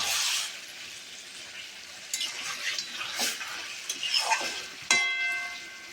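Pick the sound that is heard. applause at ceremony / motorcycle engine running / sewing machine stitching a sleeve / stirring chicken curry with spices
stirring chicken curry with spices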